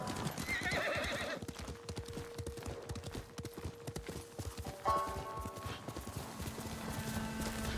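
A horse gallops through the Ghost of Tsushima video game, with rapid, rhythmic hoofbeats and a whinny over a game soundtrack, its music and tones shifting partway through.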